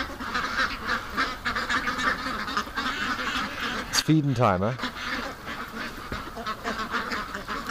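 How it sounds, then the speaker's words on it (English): Ducks quack and honk at feeding time in a windy outdoor spot, a steady flock clamor with one loud, close, wavering honk partway through, while a person talks over it. "Oh, more ducks are coming."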